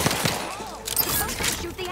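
Bursts of Torpificator weapon fire from The Outer Worlds 2 ring out in quick succession, loud and close, layered over dense game sound effects.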